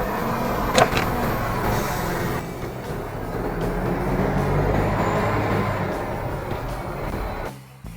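A 1995 diesel Toyota HiAce 4WD drives along, its steady engine and road rumble heard from inside the cabin, with a brief clunk early on and the sound dropping away at the end.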